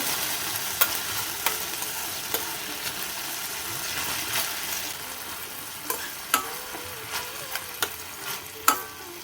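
Coconut manchurian sauce with soy sauce and vinegar being stirred in a hot pan, a steady close sizzle with scattered sharp clicks and scrapes of the spoon against the pan.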